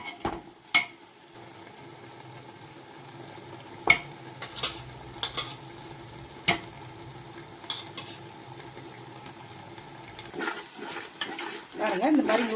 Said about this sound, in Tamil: இந்த மாதிரி 150 கிராம் அளவுக்கு தயிர் சேர்த்துருக்கேன். நல்லா இது கலந்துடணும்.